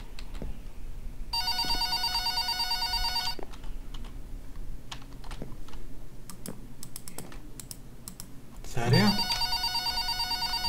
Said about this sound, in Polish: telefon mi dzwoni, ale nie wiem gdzie ja go mam